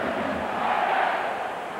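Stadium crowd at a Wigan versus St Helens rugby league match at the JJB Stadium, a steady, distant roar of many voices with no breaks.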